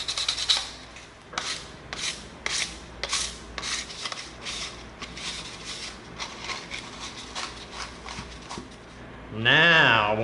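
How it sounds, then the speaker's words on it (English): An 80-grit sanding stick rubs across EVA foam in a series of short, rasping strokes with brief pauses between them, close and fairly loud, ending with a burst of voice. "we're going to come in with our 80 grit sanding stick"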